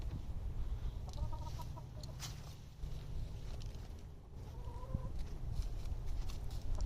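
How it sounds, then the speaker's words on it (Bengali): A hen clucks repeatedly while laying eggs in a nest on stacked firewood, with short rising calls over steady low background rumble and other farmyard birds faintly nearby. "মুরগি ডিম পাড়তে উঠিছে"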